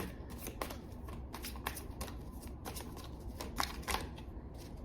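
Tarot cards being shuffled by hand, with soft riffling and flicking over a steady low background hum, and several sharper card snaps spread through the few seconds.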